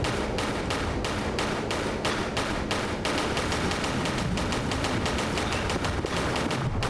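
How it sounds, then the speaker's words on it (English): Rapid bursts of enemy gunfire in Tomb Raider 4 Remastered, a dense, loud, continuous rattle of shots with sharp repeated cracks and no voices over it. "Now one of them's just shooting at me."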